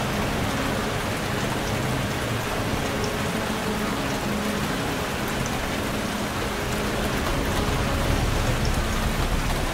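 Dense, steady rain pouring down in a BeamNG Drive driving game scene, a constant hiss of heavy drops on surfaces with no pauses, loud and close throughout.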